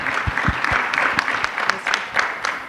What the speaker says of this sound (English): A round of applause for DSTI.